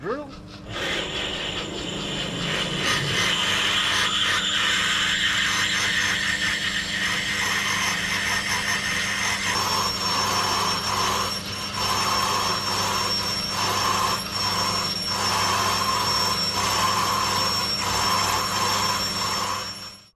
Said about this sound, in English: big drill.